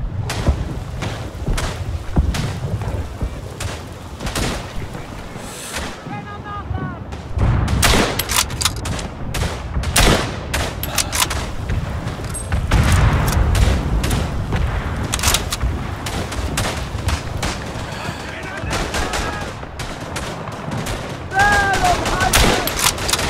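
Dense gunfire from rifles and machine guns in a Verdun World War I shooter set in Flanders, with repeated sharp shots, thuds and booms throughout under shouted voices.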